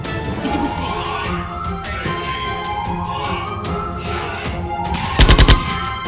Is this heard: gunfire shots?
yes